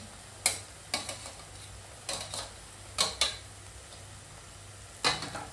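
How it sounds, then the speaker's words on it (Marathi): Garlic fries in a pan while shevla bhaji cooks, and a spoon scrapes and taps the metal in sharp clusters of clicks over a steady low sizzle, with no talking. "त्याच्यात लसूण टाकते"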